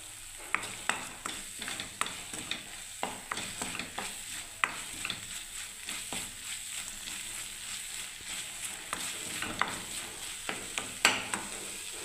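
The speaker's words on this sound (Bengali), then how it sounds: "বন্ধুরা আমার মশলাটা কষা হচ্ছে" A spatula scrapes and stirs a spice paste with cabbage, carrot and peas in a pan, giving quiet irregular clicks and scrapes over a soft, steady sizzle with no voices.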